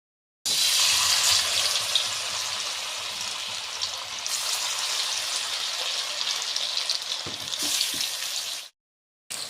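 Banana flower fritters, mixed with salt, turmeric and water, sizzle loudly in hot oil in a steady close-up hiss that briefly softens partway through, then cuts off abruptly near the end.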